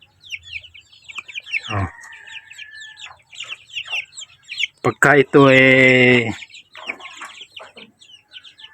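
A mother hen with her chicks: thin peeping chirps run throughout, broken by a loud drawn-out rooster crow near the middle, with someone speaking briefly among the birds.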